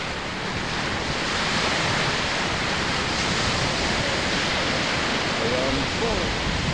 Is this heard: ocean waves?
yes